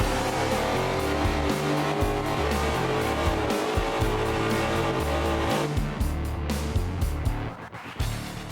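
Race car engine at a classic car shop, a loud sustained roar with low rumbling pulses throughout, easing slightly near the end with no talking.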